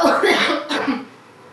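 A single person coughs a few harsh times in quick succession, close by, then the sound trails off into quiet.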